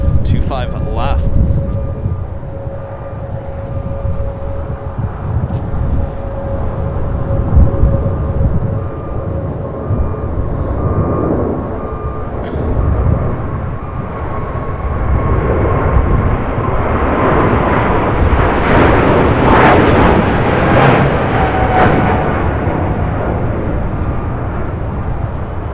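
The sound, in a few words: Boeing 747-8 freighter taking off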